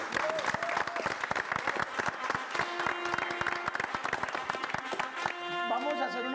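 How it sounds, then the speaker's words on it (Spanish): A studio audience on a Colombian television show applauds the bands Alcolirykoz and Bajo Tierra, sharp distinct claps under voices and pitched tones, with the clapping thinning out toward the end. "Un aplauso para ellos."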